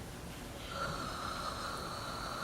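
Snoring-like breathing drawn through parted lips, a single long, rough, airy rasp that swells after a quiet start and holds steady, close and alone with no talking.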